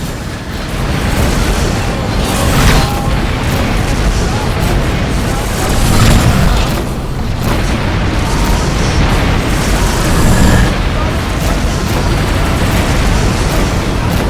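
Repeated booming missile explosions in the space combat game Rebel Galaxy, loud and dense across the whole stretch, with several heavier bursts standing out over a constant rumbling din.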